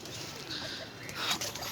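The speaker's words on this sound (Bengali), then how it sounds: "আমার এই যে কবুতরগুলো নামতেছে, ডাক দিতেছি" Pigeons coo softly nearby as they come down to be fed, with faint wing movement and some light background noise.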